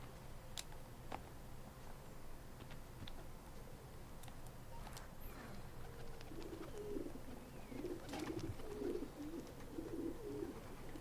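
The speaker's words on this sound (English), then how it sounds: "Time to get a pigeon coop thing." Pigeons coo softly at a coop in Assassin's Creed II, low murmuring calls rising toward the end over quiet ambient background with scattered faint ticks and clicks.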